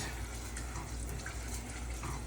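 A pot of vegetable marinade coming to a boil, a soft steady bubbling and watery rush that holds even and close, with no talking.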